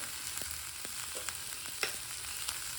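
Chili powder, coriander powder and chana dal fry in oil for a head mutton curry, a soft, steady sizzle with occasional light clicks of a spoon stirring the pan.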